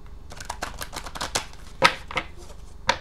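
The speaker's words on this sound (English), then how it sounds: "Okay, one more good shuffle." Crisp papery riffling and flicking of tarot cards being shuffled up close, in quick uneven bursts with a few sharper snaps.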